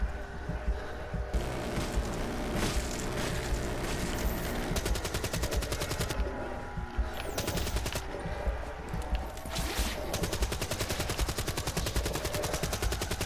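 A minigun fires in the video game Dead Ops 2, with dense rapid automatic gunfire that runs nearly continuously, broken by brief pauses, loud and close, along with other game effects.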